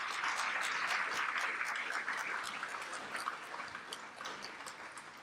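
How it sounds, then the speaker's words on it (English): Steady applause from an audience at the CCAS 2017 conference opening ceremony, a dense wash of many hands clapping that fades gradually over several seconds. "That deserves a round of applause."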